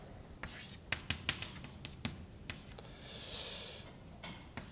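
Chalk or marker taps and scratches on a board during a physics lecture, with a series of quiet sharp strokes and a softer stretch of continuous scraping, faint and close.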